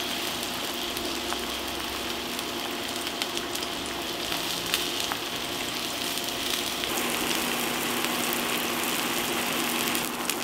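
Apple slices sizzle in hot oil in a pan after being turned over, a continuous close crackle with scattered sharp pops and spits, no voices over it.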